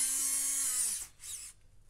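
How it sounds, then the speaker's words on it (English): A small motor drill with a fine 0.6 mm bit runs on a 1/200 scale HMS Hood model part, a close high whine that winds down after a second, followed by a brief second burst. "I like to use a motor drill when I'm using fine bits like this."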